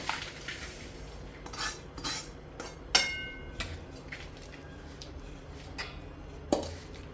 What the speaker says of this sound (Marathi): आपण संपूर्ण रवा ह्या वाटीमध्ये टाकून घेतलाय